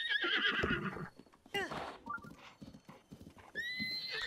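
A horse in The Legend of Zelda: Breath of the Wild whinnies loudly several times, with rhythmic hoofbeats and clopping between the neighs, close and prominent alongside someone talking.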